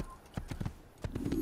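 Horse hooves clip-clopping in the Assassin's Creed video game, a few crisp hoof strikes in two short uneven bursts, close and fairly quiet against a faint background.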